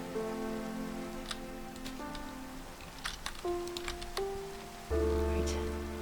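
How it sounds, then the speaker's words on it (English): Steady rain falling in the video game Minecraft, a continuous soft patter heard alone beneath tonal game music that shifts notes throughout. "And now it's raining."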